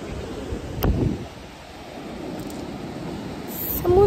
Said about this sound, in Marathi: बीच वरती बघा कसं समुद्र आहे